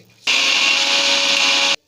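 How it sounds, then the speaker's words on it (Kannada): A mixer grinder whirs loudly for about a second and a half, blending green chillies, grated coconut and water, starting abruptly and cutting off just as suddenly. "ಈಗ ಅದನ್ನು ನಾವು ಮಿಕ್ಸಿ ಮಾಡ್ಕೋಬೇಕು"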